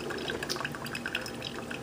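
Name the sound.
Cook's Essentials one cup coffee maker brewing into cup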